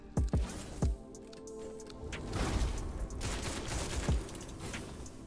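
Gunfire in the video game WitchFire during a boss fight against the Shield Bearer: several sharp shots crack early, then a muffled rumbling stretch and another shot toward the end, all fairly quiet.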